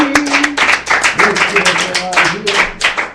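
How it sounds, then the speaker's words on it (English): A church congregation claps steadily and rapidly, a dense wash of applause with voices mixed in underneath. "give Father Head clap of praise"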